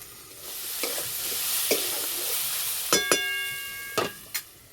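Vegetables salted and frying under a lid for a semai dish, giving a steady soft sizzle throughout with a few sharp metallic clinks and scrapes of stirring near the end.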